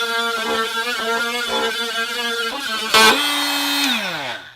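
An oscillating power multi-tool plunge cuts straight through a piece of wood with a loud, steady buzzing whine that pulses under load, jumps to a harsh burst near the end, then its pitch sinks as the motor winds down.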